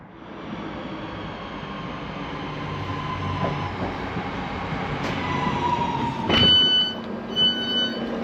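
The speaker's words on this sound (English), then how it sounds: "Northern have sent a 4th train bang on time." A Northern passenger train pulls into a station on the Glossop line, its steady rolling rumble and wheel noise building close by, then a sharp squeal and clatter as it slows alongside the platform.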